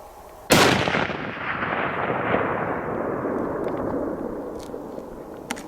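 A single hunting rifle shot fired at a bear in Idaho backcountry, one sharp loud crack followed by a long rolling echo that fades slowly over several seconds, with no talking.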